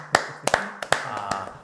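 A few people clap briefly at an interview for a small startup, several sharp, separated claps with gaps between them, close and fairly loud.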